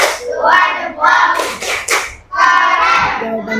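Children in a primary school classroom perform a clapping chant, their voices rising and falling in unison around several bursts of sharp hand claps.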